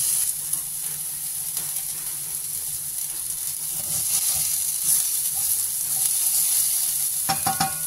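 Corned beef browning in a frying pan gives a steady, loud hiss and sizzle throughout, with a few stirring scrapes near the end and no talking.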